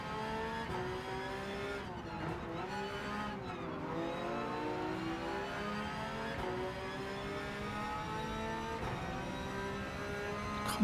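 Porsche Cup race car in Gran Turismo 7 roars continuously as it laps a circuit, the engine note rising and falling through gear changes, with brief dips at each shift and no talk.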